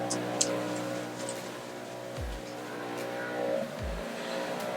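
Large outdoor air blowers drone steadily and loudly in the background, a dense continuous roar with low engine-like hum and occasional deep surges, running without any voices throughout.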